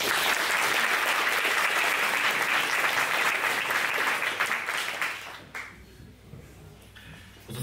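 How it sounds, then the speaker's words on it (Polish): Dense audience applause fills a gala finale hall at Google's Polish headquarters, sustained and loud for about five seconds before thinning out and fading to near quiet. "I prosimy o brawa."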